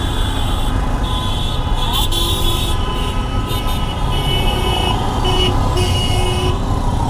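Vehicle horns on a busy road, including hydraulic horns, sounding in short bursts over a loud, constant roar of passing traffic and engines.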